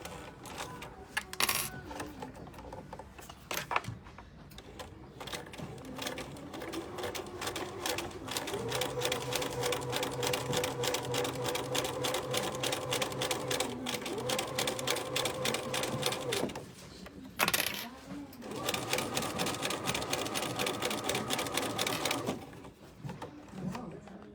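A sewing machine stitches a zipped vinyl pouch with a steady, rapid mechanical chatter in several long runs, including a short back-and-forth backstitch, broken by brief pauses and handling clatter.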